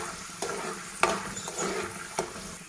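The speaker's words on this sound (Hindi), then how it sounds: "अब इसमें मैं मूंगफली डालूंगी फ्राई करने के लिए" Peanuts fry in hot oil over a slow flame for poha pulao, a soft steady sizzle broken by a few sharp clicks and taps as they are stirred, fairly faint and close.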